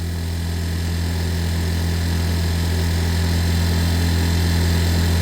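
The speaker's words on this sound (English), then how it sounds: "Idle's high, but it'll need a good run, and then we would adjust all the carb." A stolen scooter's engine idles high with a carburettor needing adjustment, giving a steady, close, continuous buzzing hum with an even vibrating drone throughout and no talking.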